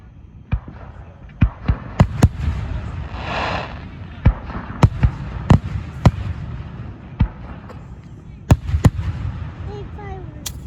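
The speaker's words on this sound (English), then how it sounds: "Big fireworks show coming up." Sharp, irregular bangs of fireworks go off every second or so, some close and loud, others fainter, with a brief crackling whoosh between them.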